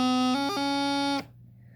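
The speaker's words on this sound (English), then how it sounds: "Sometimes what happens is we go to the destination note first and then do the G grace note." A bagpipe practice chanter plays a steady reedy tone that fumbles into the destination note ahead of the G grace note, with a quick blip in the middle of the phrase. The tone is loud and close and stops abruptly after about a second.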